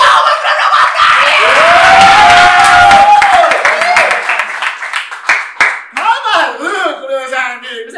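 A crowd at a rap battle claps and cheers loudly, with a shouted voice rising over the applause at first, before the clapping thins into scattered claps under talk.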